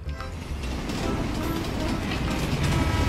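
Toy Rail King classic steam tank locomotive running on plastic rails, a steady buzzing motor whir and rattling wheel clatter that holds constant and close, with faint talk alongside.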